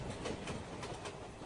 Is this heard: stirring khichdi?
no